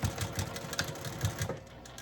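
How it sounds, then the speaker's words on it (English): A home sewing machine stitches cotton fabric with a 1/4 inch seam for a drawstring bag, its needle running in a steady, fast mechanical chatter with slight pulses as the seam is sewn, close up and without talk. "Let's go to the sewing machine."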